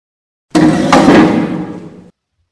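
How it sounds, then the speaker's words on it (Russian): A loud thud and clattering crash from a falling chair in a kitchen, one abrupt impact followed by a rattling, decaying rumble lasting about a second and a half, alone with no talk. "Мысли ее прервал громкий стук и грохот падающего стула с кухни."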